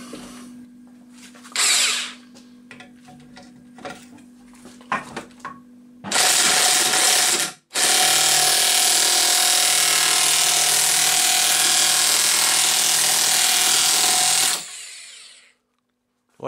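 A power tool tightening a bolt on the rear suspension of a Jaguar S-Type V6, running in a short whining burst, then after a brief pause a long sustained high-pitched whir for several seconds, loud and close, preceded by quieter clicks and handling.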